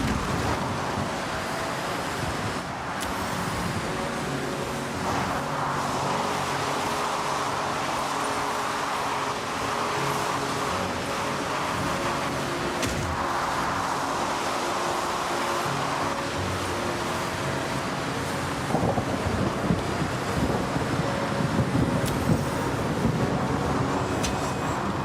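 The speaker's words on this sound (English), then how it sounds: "the main sound effect that we have is piano and the whooshing noises of cars driving past us" Cars in a racing video game whoosh past in a continuous rushing wash, steady and fairly loud for the whole stretch, with a few brief surges and no voice on top.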